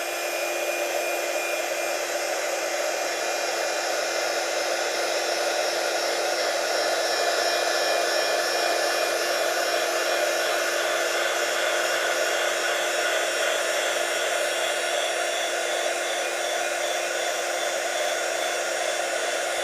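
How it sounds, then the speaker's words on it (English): Heat gun blowing steadily over painted oval mirror frame to dry and bubble the paint; a continuous, loud, even airflow whoosh with a faint whine runs unbroken throughout, no talking. "just hold your heat gun over it longer, it'll bubble"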